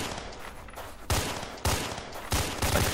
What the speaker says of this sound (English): this shotgun in particular, it actually works like a real shotgun